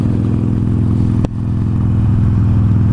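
Harley-Davidson Iron 883 motorcycle cruising on a road near Yosemite, its engine a steady, loud, low rumbling drone that holds even throughout, broken once by a brief knock.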